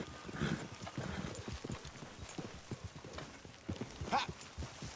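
Horse hooves clip-clopping in Red Dead Redemption 2, a rhythmic run of hoofbeats on a trail with a short whinny-like sound, fairly faint and mixed with other game sounds.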